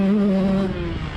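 A 125cc two-stroke racing motorcycle on a track howls loud and close, its high buzzing engine note steady and then dropping off briefly as the bike goes loose into a turn.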